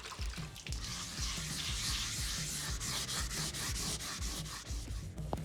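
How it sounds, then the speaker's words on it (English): Sanding on a rusted spot on a Land Cruiser body: a close, continuous gritty rasp with steady back-and-forth strokes that pulse roughly twice a second. "So the next thing you will see is me a little bit of sanding."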